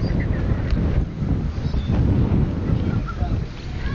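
Strong wind buffets the microphone outdoors near water, a loud, rough, continuous rumble with gusty swells and faint voices mixed in.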